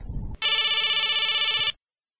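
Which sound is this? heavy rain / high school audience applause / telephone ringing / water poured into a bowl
telephone ringing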